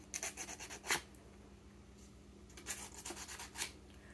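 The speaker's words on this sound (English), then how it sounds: "We're gonna sand it." Sanding a salvaged piece for a homemade Christmas gift gives faint, soft rubbing strokes that come in short bursts with brief pauses between them, heard alone without any talk.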